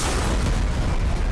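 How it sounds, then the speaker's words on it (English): A sticky bomb going off in Batman: The Telltale Series, heard as one sustained, loud, booming blast with dense rumbling low end that fills the whole moment without any speech over it. "Sticky bomb sounds badass."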